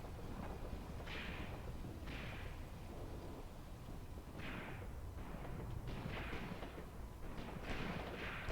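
Enemy gunfire in Graviteam Tactics, a World War II battle at Kharkov in 1941, comes as repeated distant muffled shots and thuds, about eight bursts spread irregularly over a steady rumbling battlefield background with no talk.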